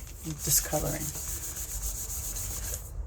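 A cloth rubbing soap onto tarot cards makes soft, close scrubbing and swishing strokes in a continuous rhythm, with a few light taps near the start, then the sound stops abruptly at the end.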